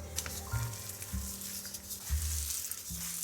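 Sausage, shredded cheese and Bisquick dough being worked together in a bowl: quiet, soft mushing strokes with a few dull thumps repeating at a slow, even pace.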